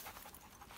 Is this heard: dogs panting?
yes